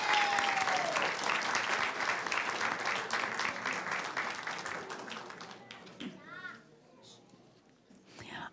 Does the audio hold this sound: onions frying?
no